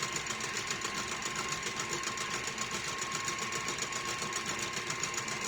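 Electric hand mixer beating eggs for a pumpkin roll batter, a steady continuous motor whir with a rhythmic buzzing texture, close and even throughout, no talking.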